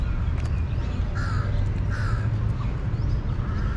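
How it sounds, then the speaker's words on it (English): Crows caw repeatedly at a moderate distance in Thailand, harsh calls spaced a second or so apart over a steady outdoor rumble. "Crows everywhere."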